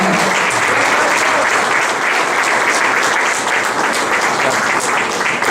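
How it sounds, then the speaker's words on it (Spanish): Sustained, dense applause from a church congregation at a Spanish-language worship service in Peru, loud and steady throughout with no pauses. "Aplausos para el Señor."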